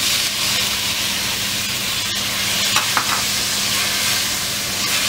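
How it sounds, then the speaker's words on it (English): Tomatoes drop into a hot pan of ginger garlic paste for pav bhaji and fry with a loud, steady sizzle and hiss, a couple of small stirring clinks partway through, with no voices. "Now add tomatoes."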